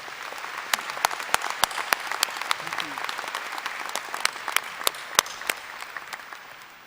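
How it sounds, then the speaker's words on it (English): Audience applause at a spring university commencement ceremony: many hands clapping steadily at a moderate distance, with distinct individual claps standing out across the sustained patter. "Let's give all these folks a round of applause."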